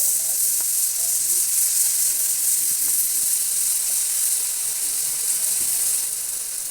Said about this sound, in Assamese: এতিয়া আমি 5 মিনিটমান এই আলুখিনি ভাজি থাকিম। এতিয়া আমি ইয়াত মটৰখিনি দি দিম।